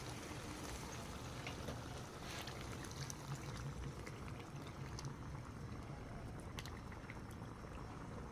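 Coconut milk from three whole coconuts simmers in a pot of laing, the Bicol taro-leaf dish. The bubbling is soft and steady throughout, with no voices.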